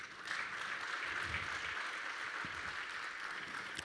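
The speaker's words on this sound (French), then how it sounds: "Demandez à la salle de vous applaudir pour que vous puissiez les entendre." Steady applause from a seated conference audience at an insurance meeting in Casablanca, a dense even wash of clapping lasting throughout.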